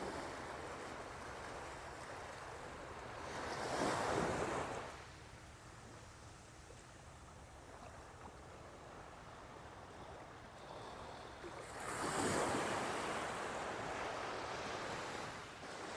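Ocean waves on a small beach in Brazil: a steady roar of surf with wind rushing against the microphone, and two waves swelling and crashing louder before settling back into a constant wash.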